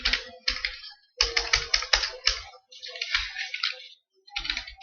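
Bursts of typing on a computer keyboard, fast clustered key clicks in several runs with short pauses, close and clear, no talking.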